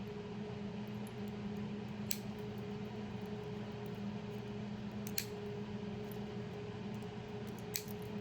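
Steel bits are trimmed off the threads of an oil cooler fitting, giving three faint, crisp snips spaced a few seconds apart over a steady low background hum.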